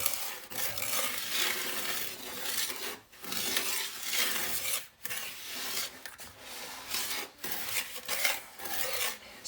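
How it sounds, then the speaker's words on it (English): A whisk slowly and gently stirs a batch of homemade laundry detergent made with borax, producing soft, continuous scraping and swishing strokes in a steady rhythm, close and alone with brief pauses between passes. "You can actually take a whisk and gently stir it."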